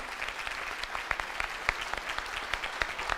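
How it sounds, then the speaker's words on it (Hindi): Audience applause fills the room at a business networking gathering, a steady dense patter of many hands clapping with sharper individual claps popping out, sustained without a break and no talking over it. "एक बार हमारे सभी ग्रेट अपलाइन के लिए एक बार जोरदार ताली बजा दीजिए"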